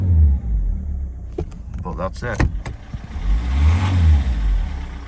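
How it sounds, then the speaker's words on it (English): A cold Citroen C5 engine is revved in short bursts, a low rumbling idle swelling into a rising roar, close and loud, while someone speaks briefly over it. "Best thing to do with a cold engine is rev it"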